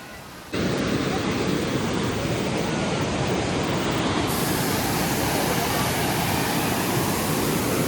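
Loud, steady roar of a hidden waterfall at Dimbhe dam, with water pouring hard and close. Quieter for the first half second, then constant broadband rushing with no break.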